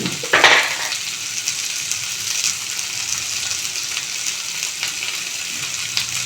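Capsicum and onions sauté with salt in a pan, giving a steady close sizzle and a brief scrape of stirring at the start, with no talking.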